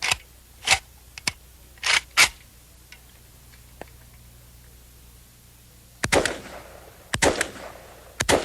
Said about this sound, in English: This is a semi-automatic firearm.